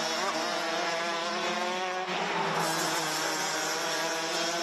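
Racing karts in a Rotax Max Challenge Masters race at Wittgenborn, Germany, with high buzzing two-stroke engines whining continuously at close range, one pitch shifting as a kart passes, with no talk.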